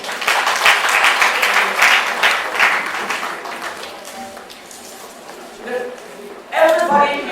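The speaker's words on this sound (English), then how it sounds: "A very big round of applause." An audience at a Nnewi women's league celebration in Lagos gives a burst of applause that gradually fades, followed by a voice speaking and then a brief swell of noise.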